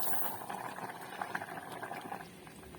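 Vermicelli boiling in water with sugar, a steady bubbling simmer that carries on without pause at a moderate level, close by.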